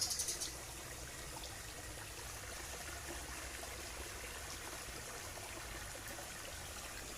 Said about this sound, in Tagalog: Ayun o, may maliit na sapa.